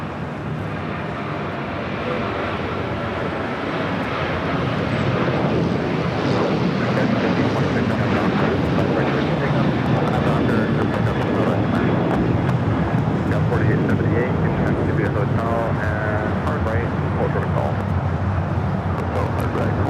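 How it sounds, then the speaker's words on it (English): A United Airlines Boeing 737-800 bound for Houston takes off from the south side runways at LAX, its engines a loud, sustained roar mixed with wind noise, with a voice talking over it. "Next takeoff here on the south side, United Airlines flight 2377 heading to Houston, Texas, 737-800."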